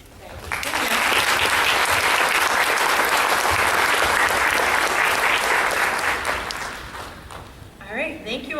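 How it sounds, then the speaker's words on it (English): Audience at a mental health awareness event applauding: a dense, sustained roll of clapping that swells quickly, holds steady for several seconds, then tapers off as a voice begins speaking. "We have a round of applause for the stories"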